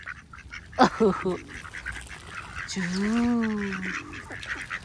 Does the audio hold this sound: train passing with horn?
no